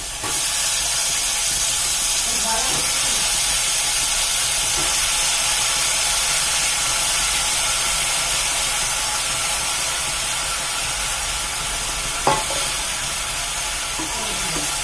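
Chopped ridge gourd dropped into hot oil with spices in a home kitchen pan sets off a loud, steady hiss of sizzling that holds evenly throughout, with a single sharp clack near the end.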